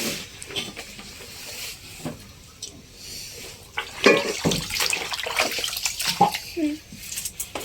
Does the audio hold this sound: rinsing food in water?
yes